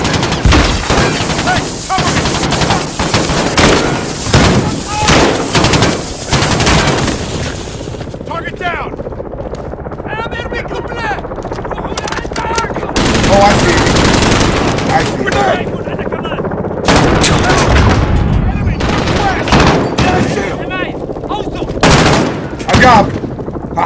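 Loud automatic gunfire in Call of Duty Modern Warfare (2019), with dense bursts and single shots over a helicopter's thumping drone, pausing briefly before fresh volleys, as soldiers shout over the fighting.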